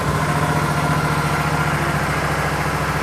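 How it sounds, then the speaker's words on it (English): A 2012 Yamaha Super Tenere motorcycle engine idles steadily and close by, a continuous low throbbing rumble with even pulses and no break, no start-up visible. "So I'm just going to start it up,"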